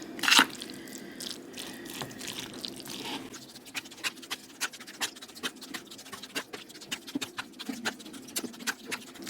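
Cajun seasoning being stirred into food at close range: a steady run of small wet squishes, clicks and drip-like ticks, with a sharper clatter right at the start.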